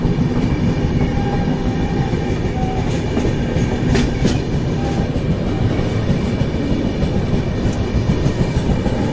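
The Jammu Tawi Express, train No. 13151, runs steadily on rails in a close, continuous rumble with faint clickety-clack from the wheels. There are no voices.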